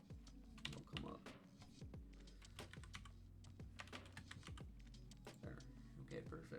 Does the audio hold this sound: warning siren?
no